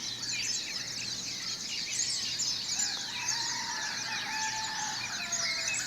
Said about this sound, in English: I imagine that you can hear all the birds.